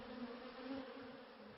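Honey bees buzz in a dark hive, a steady droning hum with a low, even pitch that continues without a break at a modest distance.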